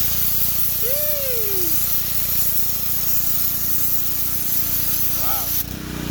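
A RYOBI pressure washer powered by a Honda engine sprays through a 0 degree nozzle, a steady loud hiss over the engine's drone, with a voice speaking briefly.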